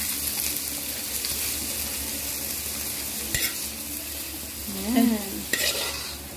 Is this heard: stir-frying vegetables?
yes